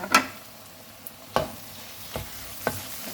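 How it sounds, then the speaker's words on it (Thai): Minced meat being stir-fried with garlic in a pan, a few distinct scraping stirs with a soft sizzle underneath, spaced about a second apart. "กระเทียมเริ่มเดืองแล้วยายก็จะเอาเนื้อสับลงไปผัดนะคะ"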